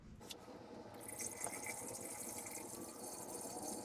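Coolant gurgles and splashes steadily as it is poured from a gallon jug into the radiator of a 1964 Impala, a soft continuous liquid flow heard up close.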